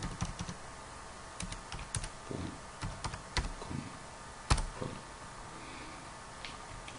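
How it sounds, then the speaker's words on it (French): Quick bursts of keystrokes on a computer keyboard as a web service name is typed, irregular clicks in short clusters, close and fairly quiet, with no speech. "On va venir ici, on va écrire WeTransfer."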